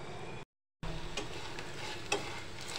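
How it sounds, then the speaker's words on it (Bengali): Cake pakora dough fries slowly in oil over low heat, a steady soft sizzle with faint stirring clicks and a short silent break near the start, no talking. "এটা খুবই লো হিটে এবং আস্তে আস্তে ভেজে নিতে হবে।"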